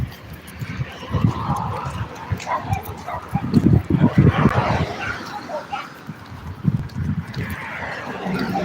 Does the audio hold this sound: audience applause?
no